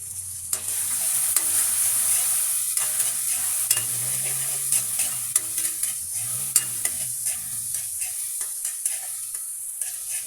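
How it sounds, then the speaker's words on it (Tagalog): Chopped tomatoes sizzle steadily in hot oil in a pan for ginisang pechay, with repeated scraping strokes of a spatula stirring them, close and continuous. "Lalagyan na natin yung ating kamatis."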